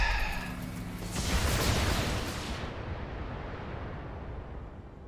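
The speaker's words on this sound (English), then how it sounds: "That was a lot of explosions." A heavy explosion rumbles in BattleTech, with rolling booms and deep blasts that crest then fade into a low, dull rumble, loud and alone.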